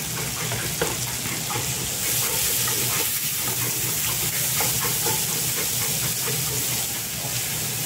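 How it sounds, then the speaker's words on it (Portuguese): Two heads of onion browning in hot oil for a bacon and pineapple farofa sizzle and hiss steadily, loud and close, with occasional stirring scrapes and no voices over the frying. "Vou deixar dourar a cebola."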